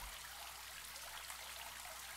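Bath water running in a horror video game, a soft steady trickling stream, faint and continuous with no talking.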